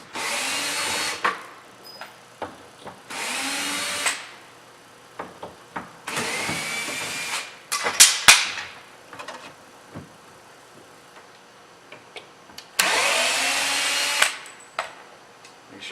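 A power drill backs a securing screw out of a spa's corner cabinet panel, whirring in four separate bursts of a second or so each, close and loud, with light clicks and handling noise between them.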